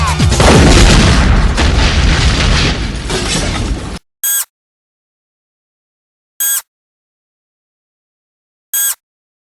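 A video game explosion: a long, loud blast rumbles and crackles with debris for about four seconds, then cuts to silence, followed by three short, bright identical bursts spaced evenly apart.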